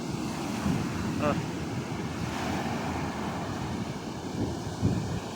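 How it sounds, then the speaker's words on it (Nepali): Ocean waves surge and break along a Maldives shore, making a low, steady rumble of surf mixed with wind buffeting the microphone. "छाल उठेर आउँछ गाइस।"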